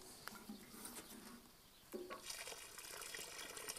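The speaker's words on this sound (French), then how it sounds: "On va arroser le fond du trou." Watering can pouring water into a planting hole in a raised tomato bed, a quiet splashing trickle with soft patter that grows fuller partway through, close by and faint.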